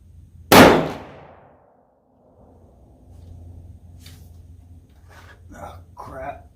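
A .308 Winchester Deer Season XP copper rifle round fired into ballistics gel gives one sharp, loud crack that rings briefly, and talk follows a few seconds later.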